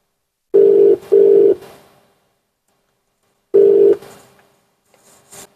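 Outgoing call tone played through an Android car head unit's dialer: two long steady beeps close together, a pause, then a third beep, clean and loud with faint noise after.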